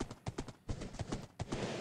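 Horse hooves clip-clopping in Minecraft, a quick run of light, evenly spaced steps at close range, with no speech.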